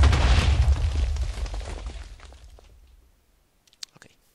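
A loud blocky explosion from the Minecraft Sky Wars game bursts at once and rumbles away over about three seconds, followed by a few faint clicks.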